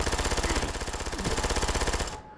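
Automatic gunfire in Ghost Recon Future Soldier, a rapid, evenly spaced stream of close shots lasting about two seconds before cutting off abruptly.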